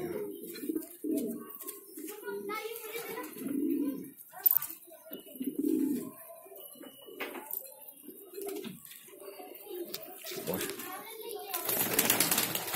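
Pigeons in a loft in Bhopal give repeated low cooing throughout, moderately close, with a voice and other talk at times and a louder rustling burst near the end.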